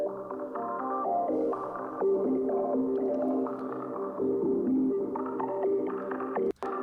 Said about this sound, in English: run through Guitar Rig, little bit of EQing on it, and the auto filter with reverb sounds something like this.